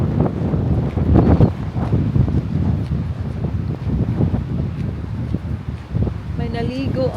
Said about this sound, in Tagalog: malamig yung hangin.